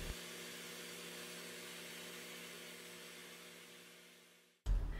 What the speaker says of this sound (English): Using the glass bead blaster, I blend the machining marks.